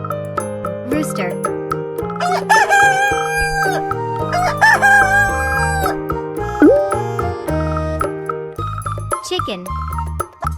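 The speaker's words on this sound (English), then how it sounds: "Rooster." Rooster crowing in a kids' farm-animal lesson: a couple of loud, stretched cock-a-doodle-doo calls ring out over bouncy background music, with shorter squawks around them.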